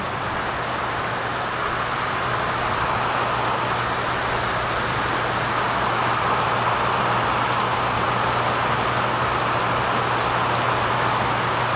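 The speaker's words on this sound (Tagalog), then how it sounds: "talagang malakas na malakas po dito ang ulan" Heavy rain pours steadily in a dense, loud, unbroken hiss, with a low constant rumble underneath and no voices.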